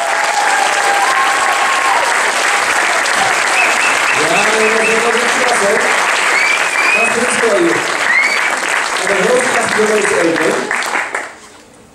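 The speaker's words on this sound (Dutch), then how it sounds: "met een groot applaus voor Casper, Etienne en Stevie de Foppers" Loud, sustained applause from a school musical audience for the performers, dense crowd clapping with cheers and voices mixed in, holding steady before fading out at the end.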